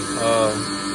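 A short burst of steady machine whine with a rising resonant buzz as a Haas Mini Mill CNC machine starts vibrating during a cut.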